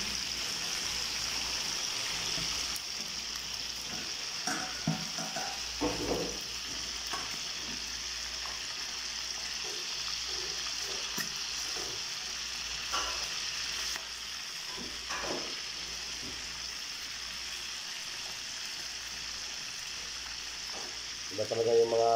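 Chunks of maya-maya fish fry in a pan for sweet and sour fish, giving a steady, low sizzle with scattered pops and crackles and occasional clinks of a utensil.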